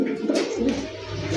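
A Rajshahi Giribaz pigeon keeps up a steady, throaty coo at close range over a low background hum.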